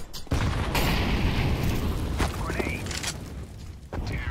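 A grenade goes off in a Counter-Strike match, a dull broad boom followed by rumbling, noisy game ambience with a couple of short sharp transients, fairly loud and without talk.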